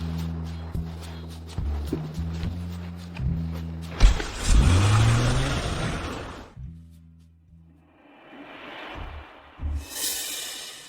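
A car engine surges and revs for about two seconds as a car pulls in to park, rising in pitch over dramatic background music, then cuts off and the music resumes.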